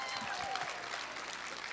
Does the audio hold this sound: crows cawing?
no